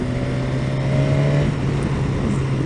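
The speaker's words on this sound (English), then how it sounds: "this engine sounds like it's a racing engine" A 2018 BMW S 1000 XR motorcycle engine running at a steady loud drone with a low sustained hum, close and continuous, no voices.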